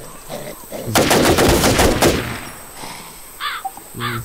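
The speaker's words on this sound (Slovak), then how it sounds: "Teraz ja, niekto ma strieľa do ruky." Bursts of rapid gunfire from a WarZ video game, a dense loud volley lasting about a second, followed by a few fainter, chirpy effects over steady background hiss.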